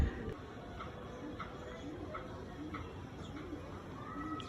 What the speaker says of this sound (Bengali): এই পায়রাগুলো আমার লফটের উপরে আসছে, বারবার এসে দেখতে আসছে এরা এখানে পায়রা আছে।